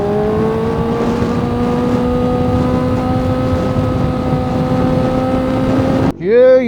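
A Kawasaki ZX-4R motorcycle engine holds a loud, steady high-pitched drone close by, then cuts to a sharp rising rev at the end.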